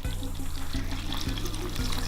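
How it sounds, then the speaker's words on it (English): Warm water pours steadily into a bowl of flour for dough, a continuous trickling stream with faint rhythmic pulses and no talking. "and then some warm water. I'm going to top that up."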